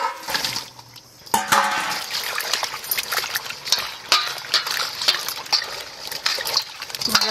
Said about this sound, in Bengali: লিচু ধুয়ে এলব